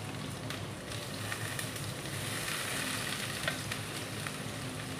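Chopped parwal and potatoes frying in a pan give a steady, dense sizzle with faint crackles, even in level and close, with no voices.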